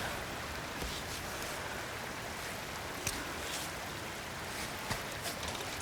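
Steady rain falls throughout in an outdoor setting, a dense, even wash of patter with a few sharper drops standing out, fairly faint and with no one talking over it.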